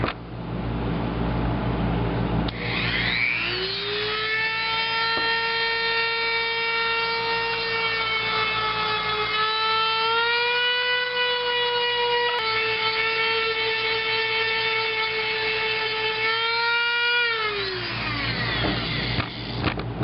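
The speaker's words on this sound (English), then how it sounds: "Now I gave it a good once over with the grinder" An angle grinder sands down a book page pumpkin, a sustained whining tone rising as it spins up, holding steady for about fifteen seconds with slight pitch dips under load, then winding down over a steady background hum.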